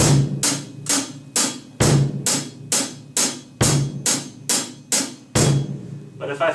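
Drum set bass drum and cymbal-like hits played along with low guitar notes in a music lesson, a steady pattern of loud, sharp strikes each decaying quickly, close and alone.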